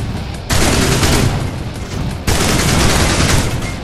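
Enemy gunfire in the sci-fi shooter Mothergunship: two loud, sustained barrages of continuous fire, the first beginning about half a second in and the second just after a brief dip, each roaring hard and close.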